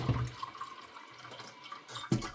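Water is poured into a pot of rice for a rice cooker, about three and a half cups, giving a light splashing trickle that is quiet and intermittent, with a louder splash near the end.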